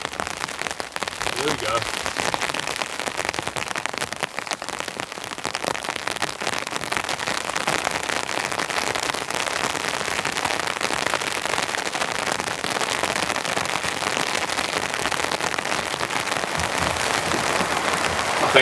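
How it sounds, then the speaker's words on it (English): Heavy rain hammering steadily on a wooden shack at an overnight camp, a dense, constant roar of drops across the whole stretch, with a brief spoken phrase near the start. "This is proper heavy rain coming in."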